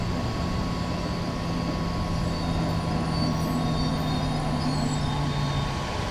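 In Train Sim World 4 on the Hamburg–Lübeck line, a regional express train rolls through a station without stopping, a continuous steady rumble of wheels and running noise with faint high squeals, heard alone.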